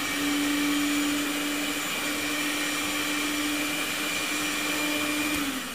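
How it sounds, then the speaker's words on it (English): A hand mixer whips cream with a steady, high motor whine and an even whirring hum, close and unbroken throughout with no voices. "when you're whipping your cream, you tend to let your mixer stay in one position"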